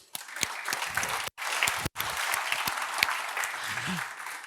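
An audience applauds a speaker at the phpday 2022 PHP conference: dense, steady clapping with scattered louder claps lasts several seconds, cut by two brief gaps, with no talk over it.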